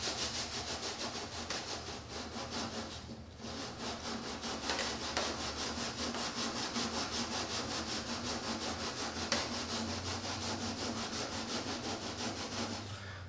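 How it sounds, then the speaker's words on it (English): A panel on a yellow F-16 scale model is sanded with 220 grit sandpaper in a steady, continuous rasping rub, close and fairly even throughout, with no voices. "we're just sanding this until it turns black"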